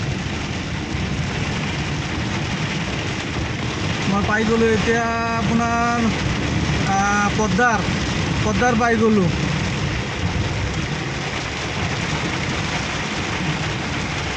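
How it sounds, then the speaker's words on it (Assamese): Heavy rain pours down steadily in Guwahati, a loud, dense hiss of drops hitting surfaces close around, while someone talks over it partway through. "চাওক কেনেকুৱা বৰষুণ"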